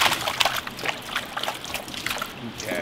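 Small fish from Colombia splashing in water during an unboxing, a steady run of light trickling and splattering sounds close by, with faint voices in the background.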